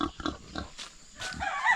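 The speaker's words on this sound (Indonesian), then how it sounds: "Nih ada babi" Pigs grunt and squeal in short, irregular bursts on a Balinese family's livestock farm in Central Kalimantan, fairly close, with rustling and a rising higher-pitched squeal at the end.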